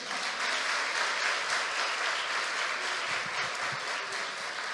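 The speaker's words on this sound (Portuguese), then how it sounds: "Você pode aplaudir ao Senhor por isso?" Church congregation clapping in praise to the Lord, a full, even applause filling the room throughout and easing slightly toward the end.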